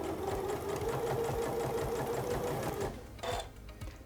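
A sewing machine with an HP foot edge stitches close to a hem, running in a fast, steady mechanical patter up close for several seconds, then pausing briefly and starting again.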